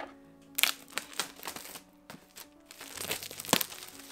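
Plastic shrink-wrap crinkles and tears off a hardcover copy of the fantasy novel The War of Lost Hearts by Carissa Broadbent, heard as close, quiet bursts of crackling with a few sharper rips, no voice present.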